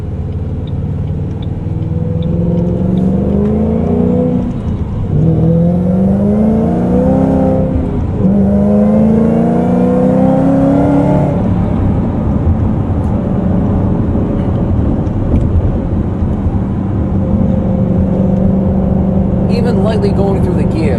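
A 900-plus horsepower Shelby GT500 Supersnake accelerates hard on the road, its loud engine note climbing in pitch through several gear changes with brief dips between shifts, close and continuous.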